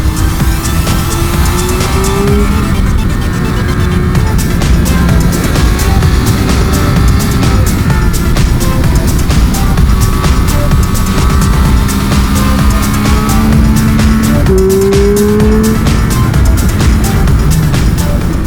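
A 2022 Triumph Speed Triple 1200 RR motorcycle ridden hard on a track, its engine held loud and close with a droning pitch that climbs, drops at gear changes and climbs again, over constant wind rush.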